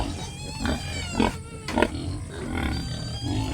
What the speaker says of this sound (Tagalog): Yung mga biik nandun na sa sulok.